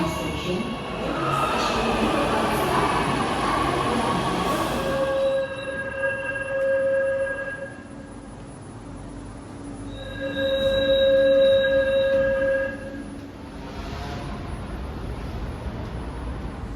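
A train at a Jakarta railway station rumbles past, its wheels letting out two long, loud metallic squeals over a steady rolling hum.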